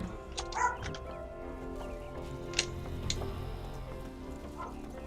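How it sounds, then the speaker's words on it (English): Dogs barking in the background, several short barks and yips scattered across the stretch, fairly distant over a steady low hum. "Love it when dogs bark when I'm trying to live stream."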